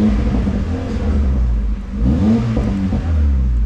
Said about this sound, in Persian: ماشین روشنه، هیچ صدایی ازش نمیاد تا گاز بدی.